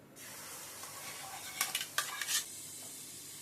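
Cooked moong dal goes into a pan of roasted wheat flour, a few quick scraping and stirring clatters of a spoon against the pan over a faint sizzle, brief and close.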